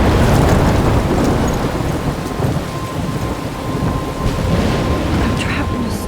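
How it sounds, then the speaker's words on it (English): Heavy rain pours steadily through a thunderstorm in the video game Life is Strange, with deep thunder rumbling continuously underneath, loud and close for the whole stretch. "I'm trapped in a storm?"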